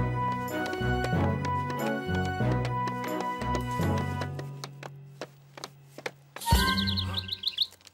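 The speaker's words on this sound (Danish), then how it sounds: "Den fugl kan virkelig lide at være her, Tom." Animated cartoon bird chirping in quick high tweets over bright tinkling score music, the chirps clustered near the end and fairly clear.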